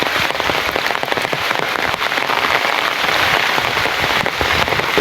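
Loud, dense rain pouring steadily onto a surface, a constant close hiss of countless drops with no pauses.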